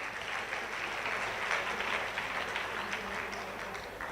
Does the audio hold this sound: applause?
yes